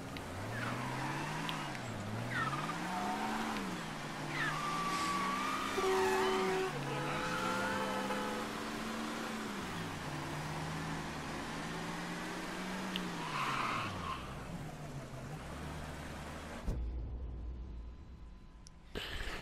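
Engine of a car driven in the video game Mafia III, a steady sustained drone rising and falling with revs, with tire squeal and skidding through the middle and a brief scrape near the end.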